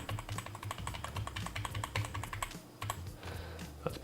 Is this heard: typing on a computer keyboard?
yes